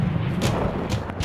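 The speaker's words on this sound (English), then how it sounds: "This is often the scenario whereby you get an explosion, a volcanic explosion." A volcanic explosion rumbles as a deep, continuous roar with several heavy booming bursts in quick succession.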